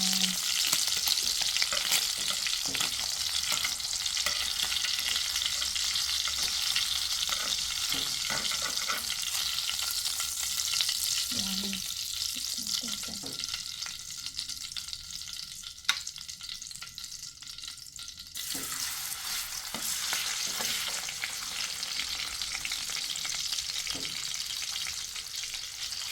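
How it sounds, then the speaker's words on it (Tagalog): Adobo fries steadily in a pan, a continuous close sizzle with occasional scraping and stirring sounds. "prito muna natin lahat to"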